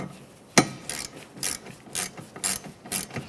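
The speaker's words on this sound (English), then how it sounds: "Start that nut on there, snug it up." A ratchet wrench snugging up a nut on a Toyota Sienna front strut assembly, clicking in steady repeated strokes about every half second, close and clear with no talking.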